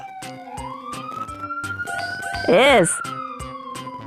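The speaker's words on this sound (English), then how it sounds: "that's the siren of the police." A police siren wails loudly, rising and falling, with a brief warbling yelp in the middle, over rhythmic background music and a short spoken word.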